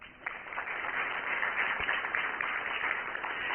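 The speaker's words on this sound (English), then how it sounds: "So give a clap to yourselves." An audience applauding, a continuous, even patter of many hands clapping that swells slightly after the start and holds steady.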